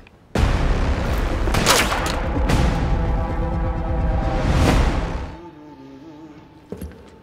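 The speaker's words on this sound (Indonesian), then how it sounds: "tiba-tiba ada serangan dari Aceng Gondok yang bergaya ala sniper" Sniper fire in an action film erupts in loud, booming gunshots and blasts that swell and roll for several seconds before dying away into a quieter tail.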